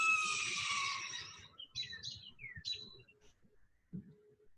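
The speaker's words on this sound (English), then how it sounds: "So this is the bird that I found just this year, a yellow-bellied sapsucker." A yellow-bellied sapsucker gives harsh, screeching calls, first a loud drawn-out squeal, then a scatter of shorter chirps and squeaks at close range amid faint rustling handling noise.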